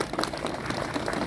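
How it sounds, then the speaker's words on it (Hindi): A crowd at a political party meeting in Ayodhya claps to welcome a minister, with scattered, uneven applause at moderate loudness across a short stretch, mixed with some room noise. "आप लोग बार जोरदार तालियों से माननीय मंत्री जी का स्वागत करिए।"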